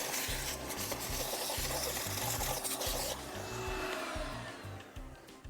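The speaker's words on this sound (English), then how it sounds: "I'm also going to vacuum it." A vacuum cleaner passes over a Lasfit car floor liner, giving a close, steady whooshing roar with a pulsing low chug underneath; the tone shifts partway through.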